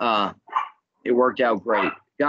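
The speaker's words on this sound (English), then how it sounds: "I apologize for my dog." A house dog, agitated by nearby gunshots, gives several short, sharp barks mixed with someone talking in the foreground.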